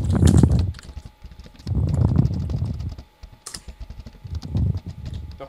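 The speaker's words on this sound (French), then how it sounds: "je sais pas si vous vont entendre mon clavier quand même" Rapid clicking of a computer keyboard being typed on during a Minecraft game session, a steady stream of close keystrokes continuing under bursts of louder background sound.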